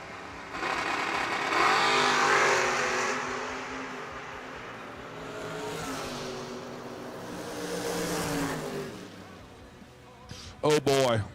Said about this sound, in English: Oh boy, what a drag race.